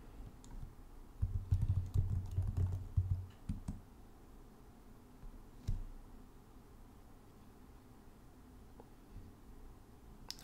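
Password being typed on a computer keyboard during first-time Ubuntu 20.04 setup in a virtual machine on an M1 Mac: a quick flurry of soft clicky keystrokes over about three seconds, then one or two isolated taps, close and fairly quiet.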